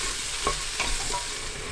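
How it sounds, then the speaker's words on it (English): Onions, leeks, carrots and mushroom being stirred as they cook in a pot, a steady soft sizzle with a few scraping knocks of the spoon, close and fairly quiet with no talking. "Give that a stir and cook basically until the onions are soft."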